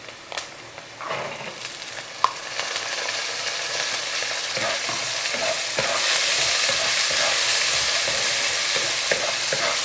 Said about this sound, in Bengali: আমি এবার সবজিগুলো দিয়ে দিচ্ছি।